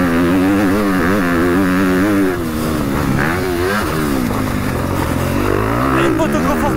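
A Honda CRF 250 motorcycle fitted with upgraded suspension runs steadily close by, its engine note rising and falling through gear changes, loud and continuous throughout, with a person speaking over the engine.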